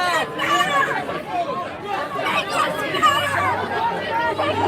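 Crowd of protesters at a street confrontation with a woman antagonizing them, a dense, steady babble of many overlapping voices close around, chattering and shouting without pause.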